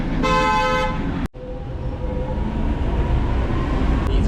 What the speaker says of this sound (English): These vintage old-fashioned trams are so cool